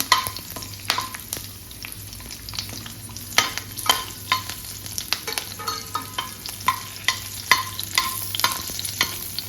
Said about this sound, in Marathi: ते आपण लगेच मिरची टाकायची त्याच्यामध्ये आणि ती चांगली परतून घ्यायची, लालसर करायची थोडीशी